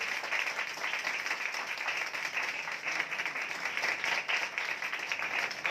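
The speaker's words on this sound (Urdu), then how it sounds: "اس کلام کے لیے زوردار تالیاں بجائیں" Loud, dense applause from a congregation at a Friday prayer meeting, a continuous roar of many hands clapping at a constant level, with no voices over it.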